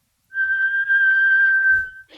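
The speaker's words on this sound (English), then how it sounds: "like harmonic, like somebody's whistling along with the note" A steady, clear whistle-like harmonic from a string being tuned holds for over a second and a half, pure and sustained, then stops abruptly.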